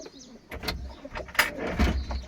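Pigeons coo in low, throaty bursts close by, mixed with brief rustles and fluttering sounds from a coop where the birds are being let out.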